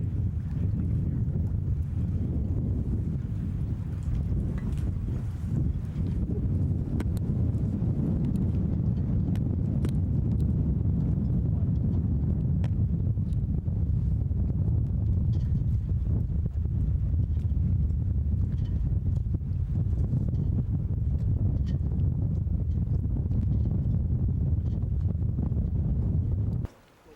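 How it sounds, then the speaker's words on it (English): Strong wind buffets the microphone in a steady low roar, continuous and loud throughout, with no voices. "Pretty windy out there right now."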